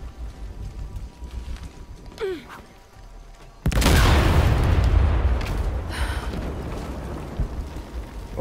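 A big explosion in Shadow of the Tomb Raider bursts in suddenly midway as a loud, sustained roaring blast that slowly fades into rumbling debris, after a quieter stretch of game ambience with a brief vocal sound.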